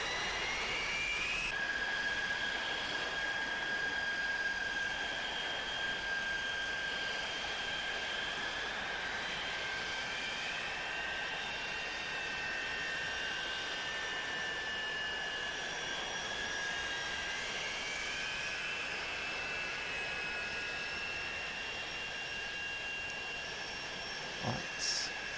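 Jet airliners taxi toward the runway at Manchester Airport, including a Monarch Airlines jet, giving a steady loud engine whine with rising and falling tones that holds throughout, and no voices are heard.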